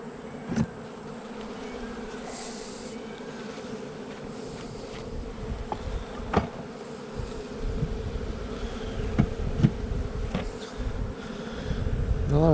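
A honey bee swarm buzzes loudly during a hive install, a thick, constant drone of many insects close by, broken by a few brief knocks and handling sounds.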